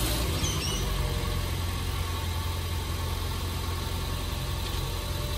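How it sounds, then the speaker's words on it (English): A vehicle engine idling with a steady, constant mid-to-low rumble and vibration, loud and close, with no distinct start and no talk. "I'll go start the vehicle"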